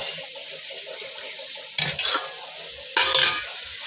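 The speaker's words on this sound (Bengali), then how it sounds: "আর এখানে আলু ভাজছি" Potatoes frying in a pan in a home kitchen, a steady close sizzle that swells twice into louder bursts as they are stirred, with light clinks of a utensil against the pan.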